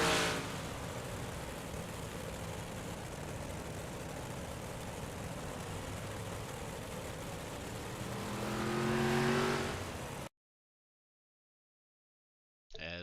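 Race cars battle down the back straightaway at Port Royal in the iRacing sim, a loud steady engine drone with a rising pass near the end, then sudden silence and a brief return.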